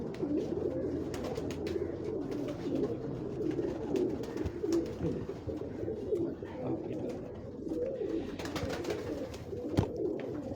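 Many pigeons at a rooftop breeding setup in Lahore keep up a continuous murmur of overlapping cooing, moderately loud, dotted with sharp clicks and brief flutters.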